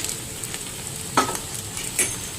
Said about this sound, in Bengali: এই যে কাঁচা লঙ্কা, এগুলো আমি এখন একসাথে ঢেলে দিলাম